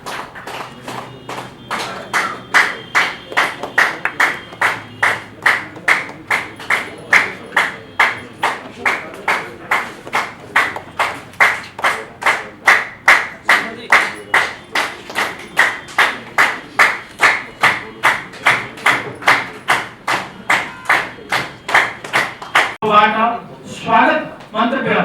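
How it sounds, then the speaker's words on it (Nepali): An audience at a hotel training event in Narayanghat claps in steady unison for a long stretch, crisp rhythmic beats repeating about twice a second, before a voice cuts in at the end. "यहाँहरूले जोरदार तालीले उहाँहरूलाई सम्मान व्यक्त गरिदिनु हुनको लागि"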